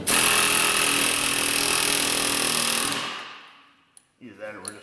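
Loud, continuous, harsh mechanical hammering on a Jeep Compass rear wheel bearing stops abruptly and fades, then a voice speaks briefly near the end.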